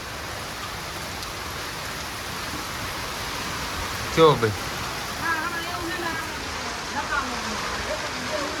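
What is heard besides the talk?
heavy rain falling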